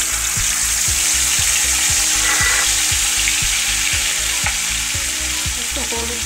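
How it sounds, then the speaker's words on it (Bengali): Ginger, cumin, dried red chillies and paste stirred and fried in a wok, a loud continuous sizzle with regular rhythmic scrapes of the spatula close up. "এবারে আমি এটাকে একটু কড়াতে নেড়ে দেখাবো।"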